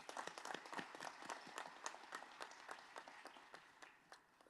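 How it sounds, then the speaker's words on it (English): Audience applause after a presentation at a public health conference, a quiet, distant-sounding crowd clapping in a continuous, slightly uneven patter throughout. "I believe we can give it another round of applause,"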